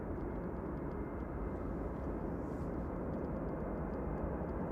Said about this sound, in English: they've said they're going to be doing a full power 2-3 right departure